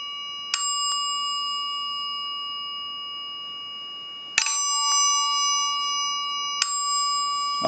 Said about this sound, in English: we'll ring this one first, and we're plugged into the right side here, so we'll go ahead and do that. And we're in the chime mode.